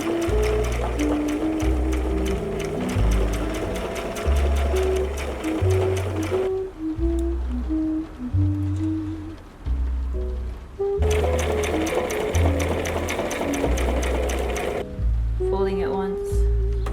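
A sewing machine stitches fabric for a garden dress, running in steady rhythmic bursts with short pauses between, close and fairly loud, with a melodic background tune underneath.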